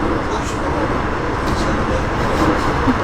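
Steady rumbling ride noise inside a moving train heading to the airport, a continuous low roar with faint rattles throughout.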